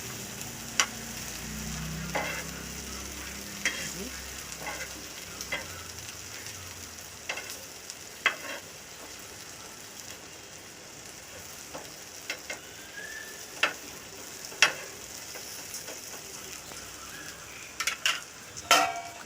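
Okra frying in oil in a pan, a soft continuous sizzle with scattered sharp clicks and scrapes of stirring and utensil taps, fairly quiet and close, no talking.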